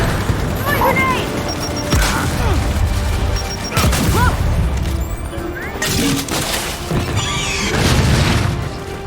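Grenade blasts in the Gears of War 5 campaign: several heavy booms about two seconds apart, ringing over battle noise and shouting voices.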